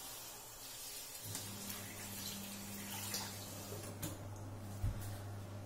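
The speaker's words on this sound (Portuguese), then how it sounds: "Vamos lavar esse arroz até que a água fique transparente." Tap water running into a small dish as sushi rice is washed in a home kitchen, a steady splashing flow that starts after about a second and carries on with occasional clinks.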